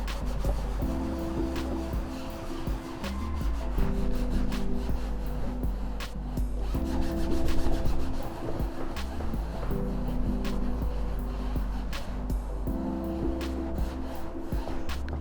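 A baren rubbing paper over an inked block for a block print, making repeated close, soft rhythmic scraping and rubbing strokes that run steadily with no talk.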